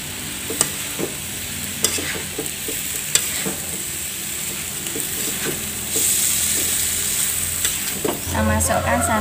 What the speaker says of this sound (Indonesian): Kemudian kita masukkan jantung pisang yang sudah kita rebus